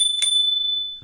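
A small bicycle bell on an e-bike gives one bright, clear ding, struck close by. It rings on with a thin, sustained tone that slowly fades.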